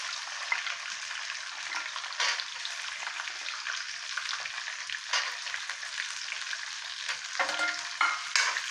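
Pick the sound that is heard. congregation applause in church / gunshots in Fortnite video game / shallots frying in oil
shallots frying in oil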